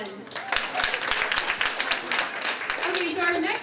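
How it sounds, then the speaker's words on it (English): Applause for a comedian at a stand-up comedy night, scattered individual claps from the crowd sounding under a speaking voice, fairly close and moderately loud. "Let's get another round of applause for Ben"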